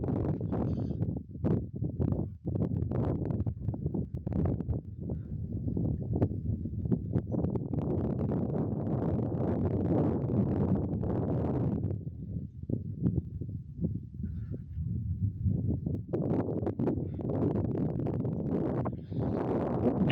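Steady gusting wind at dusk on the Fundy Trail Parkway, New Brunswick, buffets the microphone, a continuous rough roar rising and falling throughout with no voices.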